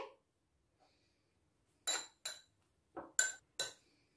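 A metal spoon clinks against a bowl while mixing salt and turmeric, several short, separated strikes, close by and crisp, with quiet pauses between.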